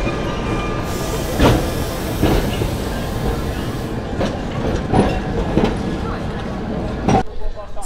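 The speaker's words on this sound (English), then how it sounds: "the wooden San Francisco style tram" A wooden San Francisco-style tram rolls along rails through the Port de Sóller waterfront, with a steady rumble and repeated clacks of wheels over rail joints under background chatter.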